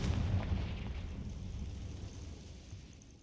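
A Confringo fire spell explodes in the Hogwarts Legacy video game, giving a heavy, booming blast that rolls off into a long, low rumbling decay with no voices over it.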